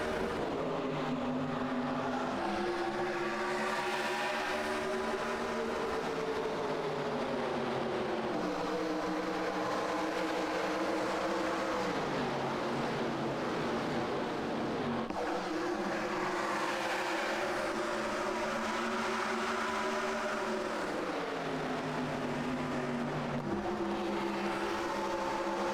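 FTF Cup race cars at Las Vegas roar continuously throughout, engine notes rising and falling in repeated sweeps as the field passes and shifts, loud and steady with no talk.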